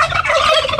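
Native domestic turkeys gobbling in a close, loud chorus, overlapping calls running through the whole short moment with no talk.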